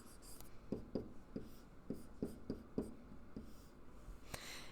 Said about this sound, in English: if I'm going to write an equation